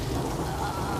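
Heavy rain lashes down in a storm with strong wind, a brief, steady, loud wash of noise with no voices.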